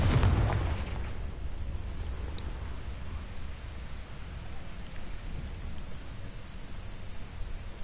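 A Confringo explosive spell goes off in the video game Hogwarts Legacy: a loud, sudden blast opens the clip, then fades into a long, rumbling, noisy decay with no talking.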